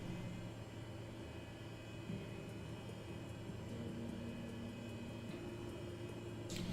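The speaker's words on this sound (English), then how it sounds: "There we go, we got a good engine start." Aircraft engine starting up in the Microsoft Flight Simulator 2020 video game, a faint, steady whirring drone with airy hiss that holds constant throughout, no talk.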